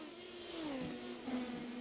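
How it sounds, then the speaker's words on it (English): Engines whine and shift pitch as race cars sweep through turns 3 and 4 in the iRacing video game at Phoenix, fairly faint against a steady background rumble. "Hear those cars going for that grip there in that turns 3 and 4"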